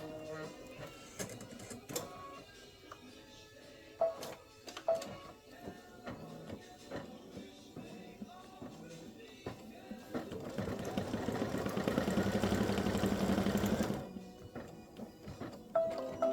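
An embroidery machine stitching a small decorative circle, steady rapid mechanical whirring that swells for several seconds near the end, preceded by quieter clicks and ticks of the machine.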